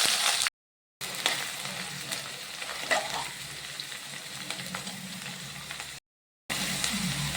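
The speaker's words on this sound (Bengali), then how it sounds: "আলুটা ভাজা ভাজা হয়ে গেল।" Cut potatoes frying in oil seasoned with panch phoron and a bay leaf, producing a close, continuous crackling sizzle with a few stirring scrapes, broken by two brief silent gaps.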